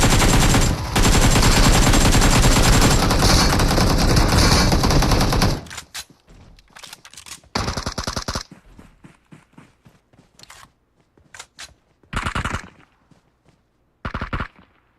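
Sustained automatic gunfire from PUBG Mobile roars for several seconds, then cuts off and gives way to scattered short bursts and single shots separated by quieter gaps.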